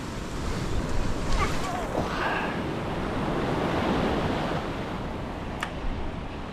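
Ocean swell and waves wash onto a beach where someone is fishing, a steady close rush of surf and wind with a few brief faint clicks over it.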